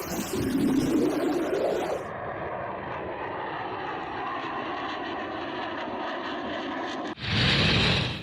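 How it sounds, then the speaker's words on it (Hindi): Indian Air Force fighter jet roaring overhead, a loud sustained engine rumble that cuts in sharply, holds steady for several seconds, then gives way to a sudden louder burst near the end; no talking. "एयरफोर्स के इन विमानों की दहाड़ से दुश्मन कांपता है।"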